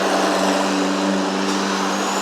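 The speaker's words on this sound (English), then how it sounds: "Like I said, that's a truck." A truck rolling past nearby, a loud steady engine drone with low tonal hum holding across the whole stretch, no voices over it.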